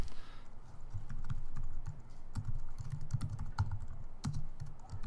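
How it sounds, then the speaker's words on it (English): Keys clatter at a steady, moderate pace on a computer keyboard as a document name is entered, close and fairly quiet with no voices. "you want to type in a name for your document."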